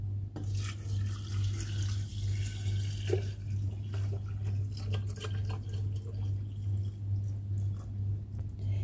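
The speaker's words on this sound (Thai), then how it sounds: "เทน้ำที่เราผสมไว้ลงไปเลย" A steady stream of mixed liquid pouring into a fermentation jar over pineapple peels, over a constant low hum, with a few small clinks and splashes along the way.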